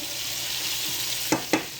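Peppers and onions sauté in hot oil in a pan, a steady close sizzle broken near the end by two sharp clatters of stirring.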